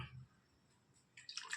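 Water poured into a pan on a lit stove for sambar, a short splashing burst near the end after a quiet pause, close and moderately loud.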